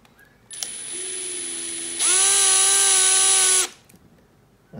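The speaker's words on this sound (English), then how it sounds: "And we are gonna drill it." A power drill runs on a Tesla jack pad adapter, a steady whine that climbs to a louder, higher pitch partway through before stopping, close and alone with no talking.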